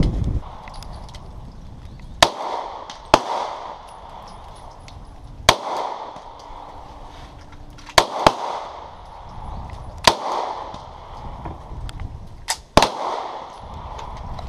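Daewoo DH40 pistol gunshots crack out one at a time at an outdoor range, about nine loud, sharp reports spaced irregularly with echoing decay and quiet gaps between.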